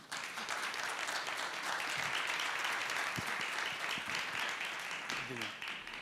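A conference audience at a Brazilian communication congress applauds as a Unilever representative is invited to the stage, a steady wash of clapping that holds for about six seconds, with a few low voice murmurs underneath.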